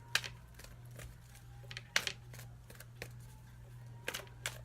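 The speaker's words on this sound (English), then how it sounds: "going to go ahead and grab my other card and start shuffling really quick" Quiet riffling and snapping of a card deck being shuffled, a few brisk bursts over a steady low hum.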